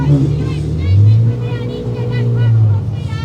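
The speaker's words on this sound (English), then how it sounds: "Oh, I thought she was getting annoyed about the revving." A Ferrari F355 engine revs and rumbles at a large UK supercar show, its deep throb swelling twice, loud and close, while people talk nearby.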